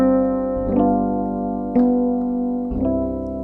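Sustained keyboard chords held steadily, moving from a suspended chord to the dominant and back to the tonic, shifting three times with soft attacks, played alone and clearly.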